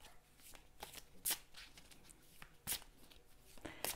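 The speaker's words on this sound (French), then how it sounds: "je vais battre les cartes" Tarot cards are shuffled by hand in quick, close riffles and slides, with several crisp louder snaps breaking up a soft, rhythmic rustle.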